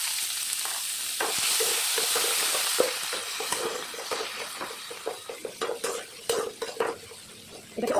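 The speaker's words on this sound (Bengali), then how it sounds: "এখন দিয়ে দিচ্ছি কুচনো পেঁয়াজ।" Chopped onions fry in a pan with cardamom, bay leaf, dried chillies and cumin for Bengali potol chingri, a steady close sizzle under repeated scraping and clinking strokes of a stirring spoon.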